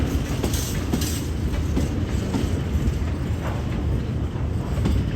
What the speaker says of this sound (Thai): สินค้าขบวนที่ 726 726 จาก ย่านรับส่งสินค้าท่าม่วง